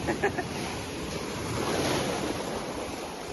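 Sea waves surging and breaking on a beach at Tithal during Holi, a broad rushing wash that swells toward the middle with wind buffeting the microphone and a few brief voice bursts near the start.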